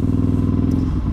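A heavily modified KTM 690 SMCR supermoto single-cylinder engine runs steadily and loudly up close, a dense low throbbing note with a slight dip near the end.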